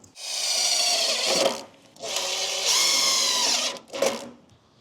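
A pipe being cut during repair of an old air dryer, heard as three long, steady rasping and grinding passes of a cutting tool, close and fairly loud with short gaps between.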